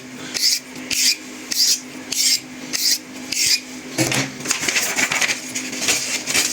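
A blade is sharpened on a Washita whetstone, giving repeated rhythmic rasping strokes, about seven steady passes followed by quicker, choppier scraping, close and clear with no talk.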